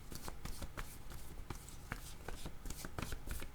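Tarot cards being shuffled and drawn from a deck by hand, a steady run of soft, papery slaps and flicks, close and fairly quiet, with no voices.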